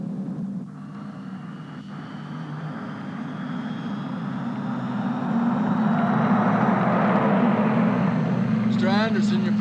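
A propeller airplane engine drones steadily and close, growing louder toward the end, with a brief higher whine near the finish.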